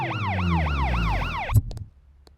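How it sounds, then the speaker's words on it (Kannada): An ambulance siren wailing in rapid, regular rising-and-falling sweeps, loud and close, then cut off abruptly and followed by a few sharp knocks before near silence. "ಆಂಬುಲೆನ್ಸ್"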